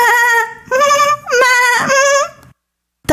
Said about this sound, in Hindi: बकरी को भूख लगी। वो जोर जोर से आवाजें निकालने लगी